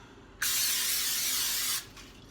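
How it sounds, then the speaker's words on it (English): A single close, steady hiss of Pam cooking spray onto a pan lasting over a second, starting abruptly and cutting off cleanly, in a quiet room. "I spray the pan"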